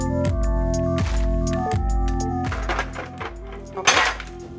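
A cup is set into a coffee machine, giving a series of clinking, knocking contacts of ceramic and hard plastic at a steady pace, close and fairly quiet, with no talking.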